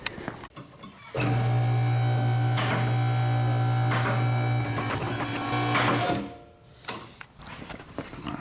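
A car lift raises a Saab in a garage with a steady, loud mechanical whine and hum lasting several seconds, ending with a drop in level and faint clunks afterward.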